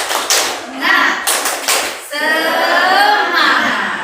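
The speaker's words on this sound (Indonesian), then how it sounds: "Tepuk semangat. Semangat." Schoolchildren in a classroom perform a patterned group clap, bursts of rhythmic hand claps and taps alternating with short gaps, then a run of quick claps, with children's voices chanting along.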